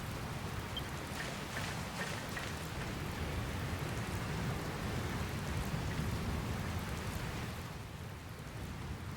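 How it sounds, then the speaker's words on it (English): Steady rain pours in the Dragon Quest Builders 2 video game as a storm rolls in, a dense, even hiss of falling water with faint rumbles, continuous and moderately loud with no talking. "Where did this rain come from?"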